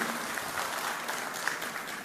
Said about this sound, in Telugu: గట్టిగా చప్పట్లు కొట్టి ఒకసారి